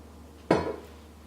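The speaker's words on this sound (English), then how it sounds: "I am gonna start by oiling the sausage stuffer" A metal sausage stuffer gives a single brief clank as it is handled, one sharp metallic knock ringing out for a moment against an otherwise quiet room.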